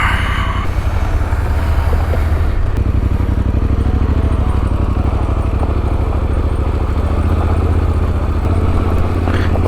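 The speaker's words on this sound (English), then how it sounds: "That is the 5th group of bikes that I have seen today." A group of big, heavily loaded touring motorcycles rumbles past, with a loud, continuous engine drone that holds close and steady throughout.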